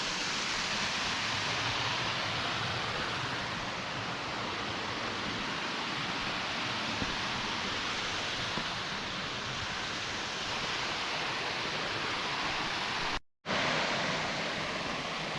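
Steady, full-bodied roar of a waterfall tumbling beneath an old stone bridge in the Scottish lowlands, close and unbroken with no voices, cutting out briefly near the end before resuming.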